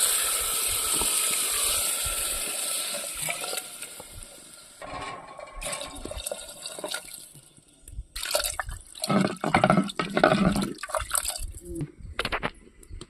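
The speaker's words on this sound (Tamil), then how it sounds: "தண்ணி ஊற்றிக்கலாம்" Water is poured into a pot of cooking cowpeas with tomato, giving intermittent splashing and pouring bursts over a steady hiss, close and moderately loud, without talk.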